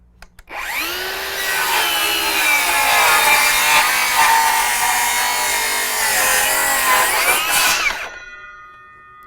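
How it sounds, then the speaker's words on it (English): A DeWalt DCS570 20V Max 7-1/4-inch cordless circular saw with a somewhat dull blade makes one angled cut through wood at a 22-degree bevel. The loud whine and rasping bite last about seven seconds before spinning down. "So now we'll cut at an angle."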